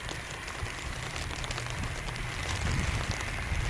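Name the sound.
dense rain falling in the Philippines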